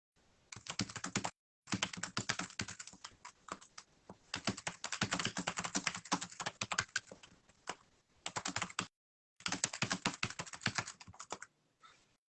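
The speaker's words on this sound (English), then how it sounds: "I'm just typing Jagoda WhatsApp just to let her know" Rapid typing on a computer keyboard, close and fairly loud, in several bursts separated by short pauses.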